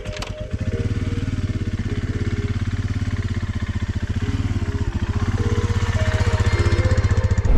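A loaded touring motorcycle's engine running steadily and loud up close, with a rapid, even pulsing throb that builds slightly toward the end as it pulls away.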